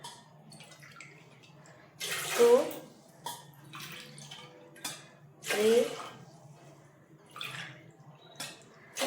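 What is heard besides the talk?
pouring cups of water into sago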